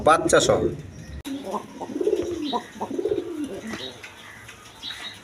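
Pakistani Teddy pigeons, a pair with a squab, coo in low repeated murmurs close by, mixed with other birds and background voices at a pigeon sale.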